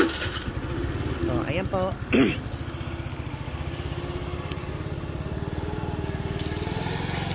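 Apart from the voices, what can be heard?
motorcycle engine starting and idling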